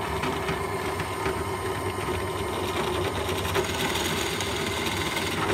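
A steady, grinding whir of a drill boring into wood for a toy mini tugboat build, continuous and close, with a rough rasping texture throughout.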